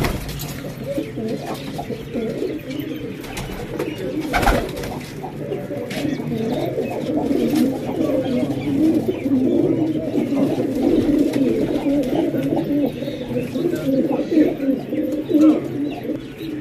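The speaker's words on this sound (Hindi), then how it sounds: "ए भी सारे गर्दान फाइटर कबूतर हैं।" A flock of fighter pigeons coos continuously in low, overlapping burbles, fairly close, with a faint chirp or two mixed in.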